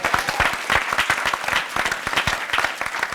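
Audience applause at a church ceremony honoring a pastor, dense rapid clapping from a sizable crowd, steady and close throughout without any speech.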